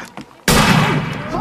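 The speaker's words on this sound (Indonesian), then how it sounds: "Karena sudah kesal, Todd keluar untuk menantangnya dengan senapan." A rifle shot rings out in the horror film Exists, a sudden loud blast after a quiet moment, followed by a sustained roar of noise.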